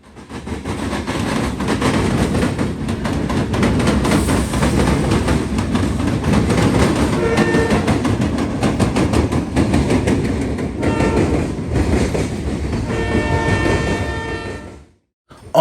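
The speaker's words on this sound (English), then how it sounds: "NS Train 171, Daily Conway, Pennsylvania to Chattanooga, Tennessee, comes rolling in with a white-faced Dash 9 and a slug set" A Norfolk Southern road freight led by a white-faced Dash 9 locomotive with a slug set rolls in, its loud, steady rumble of engines and wheels building over the rails, with clickety-clack and a brief horn before fading out at the end.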